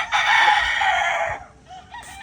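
A fighting rooster crows once, loud and close, a long strained call that trails off, followed by faint clucking.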